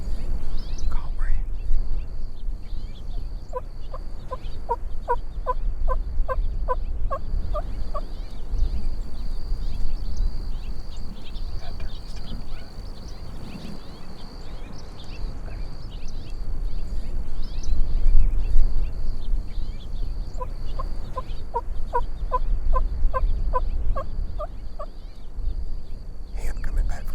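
Rio Grande wild turkey gobbler in Texas sounding two distinct bursts of rapid gobbling, one early and one late, moderately distant over a low rumbling background with faint whispered voices nearby.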